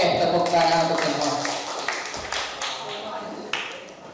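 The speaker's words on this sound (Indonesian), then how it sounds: "tepuk tangan untuk semua" Group of participants at a school workshop applauding, a steady wash of clapping with a few sharper taps, mixed with voices speaking over it.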